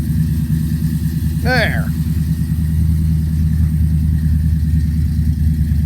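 A Chevy pickup with a bored-out 350, 30 over, from a dirt car, running duals, idles cold with the choke on: a steady loud rumbling drone throughout, with a brief voice over it.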